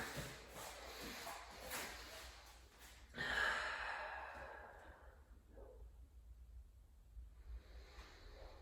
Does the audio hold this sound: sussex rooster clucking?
no